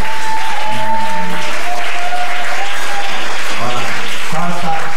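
Church congregation at an evening worship service applauding loudly and steadily, dense continuous clapping with cheers and voices mixed in throughout.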